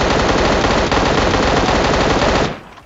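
Sustained automatic gunfire in PUBG Mobile played on an iPad: a loud, dense, continuous rattle of rapid shots lasting about two and a half seconds before cutting off abruptly.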